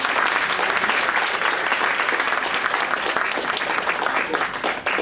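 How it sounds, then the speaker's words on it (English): A church congregation claps for a young visitor, a thick, lively burst of applause from many hands close by that stays loud and even before dropping off right at the end. "Give this young lady a hand clap over here."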